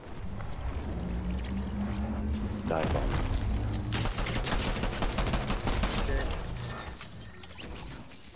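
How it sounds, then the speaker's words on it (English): Rapid bursts of Fortnite gunfire crackle and pop over a rumbling background, growing denser midway before tapering off toward the end. "There's gunshots coming from over here."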